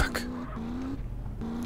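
A buggy drives and skids in GTA San Andreas, with a droning engine tone broken by short tire screeches, while a player talks over the game sound.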